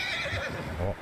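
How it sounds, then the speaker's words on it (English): A horse whinnies loudly up close in Red Dead Redemption 2, a strong neigh filling the whole second with a rising and falling whinny and a hint of hoof noise beneath, in a snowy setting. "Horse not happy."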